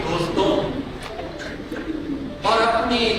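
Pigeons coo in soft, repeated throaty calls close by, with brief chirps, while a voice speaks over them throughout.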